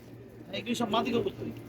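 Pigeons coo in a quality breeding loft, a short low murmuring run of calls rising in the second half, close and fairly soft, with a voice-like murmur mixed in.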